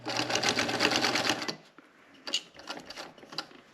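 A sewing machine stitches across a fabric coloring bag in a quick, loud burst of rhythmic needle chatter over motor hum, then stops, leaving soft clicks and fabric handling noises.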